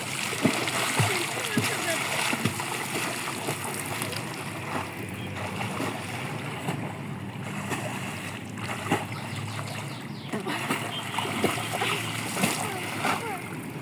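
Children swim and splash in a village pond swollen by rainy-season water, with irregular splashes and rippling water heard close by throughout, under a woman's and children's voices.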